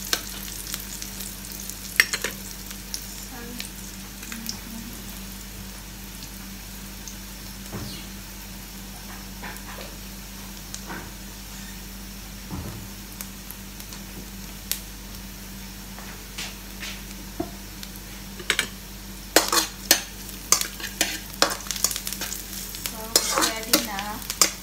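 Garlic and onion frying in a pan, a soft steady sizzle with a low hum underneath and scattered stirring clicks and scrapes, busier toward the end.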